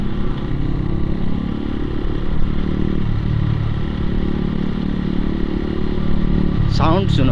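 Bike engine from a ride on an Apache 160 and Raider 125 run without an exhaust, a steady loud motorcycle rumble droning throughout with a slight rev swell, close to the listener, and a brief voice near the end.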